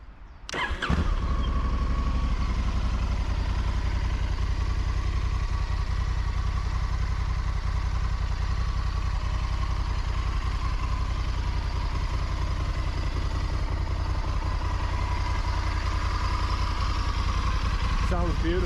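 A 2020 Honda Africa Twin 1100L motorcycle engine fires up after a short crank, then settles into a steady, close, even idle that runs on without change.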